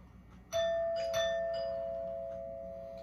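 A doorbell rings indoors with two quick chimes, the second tone ringing on and slowly fading, fairly faint and with no one speaking.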